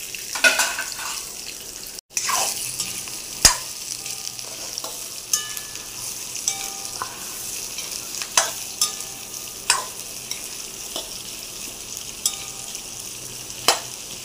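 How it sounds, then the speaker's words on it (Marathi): Onions frying in oil in a wok, a steady close sizzle with a spatula scraping and stirring at intervals, sharp metallic clicks and scrapes standing out above the continuous frying hiss, with no talking. "तर आता आपण कांदे भाजून घ्यायचे आहेत त्या तेलामध्ये"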